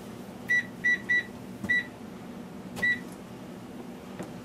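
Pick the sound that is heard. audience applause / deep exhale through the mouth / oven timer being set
oven timer being set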